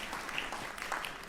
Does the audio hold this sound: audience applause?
yes